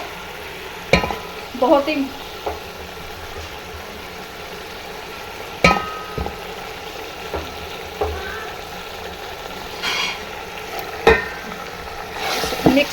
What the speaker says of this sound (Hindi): अब मैं डालूंगी इसमें अपना साग डालते जाएंगे।